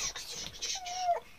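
A pet cat gives a single drawn-out meow, close by and fairly faint, in a home kitchen during a food tasting, with a voice and household noise around it.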